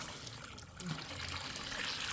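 Water pouring into a bucket, a soft continuous trickle and splash at low level, with faint background noise and no clear talk.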